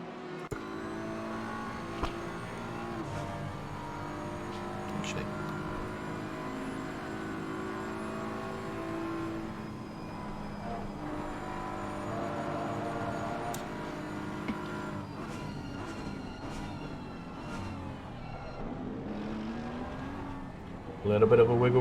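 Race cars circling Suzuka in Assetto Corsa Competizione sim racing, a Bumblebee-liveried car, a BMW and a Mercedes among them, their engines droning and revving steadily throughout, with commentary talking over them.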